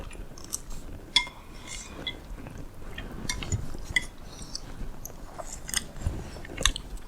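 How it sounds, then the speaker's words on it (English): Someone eats rabokki, spicy Korean rice cakes with ramen, straight from the pan in a home kitchen, with faint chewing and soft clinks of utensils against the pan and dishes in the background. "he's eating in the background"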